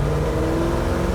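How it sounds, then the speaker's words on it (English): The 7-liter V8 engine of a 1966 Ford GT40 Mk II heard from inside the car on a drive, a loud, deep, rumbling drone held steady for a brief moment, with no talking. "You can tell that it's a giant V8 engine in this car."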